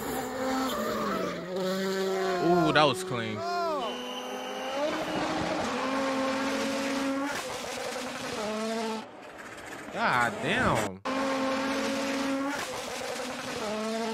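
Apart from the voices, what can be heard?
turbocharged rally cars racing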